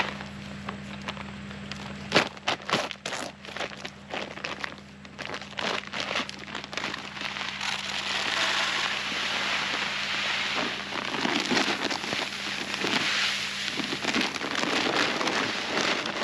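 Pure Attraction food plot seed pours in a steady granular hiss and rustle into a spreader, preceded by some crinkling and handling noises close up.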